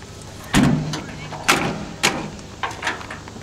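Metal doors on a 30 kW generator enclosure swung shut, several separate thuds and clunks about a second apart, close and moderately loud, with a faint low hum underneath.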